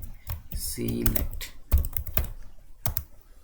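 Close-up taps on a computer keyboard come in quick short bursts, clicky and separate, while someone speaks between and over the keystrokes.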